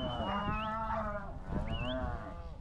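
Cattle moo on a ranch in two long, drawn-out lowing calls, close and clear, each rising at the end, with a quiet outdoor background.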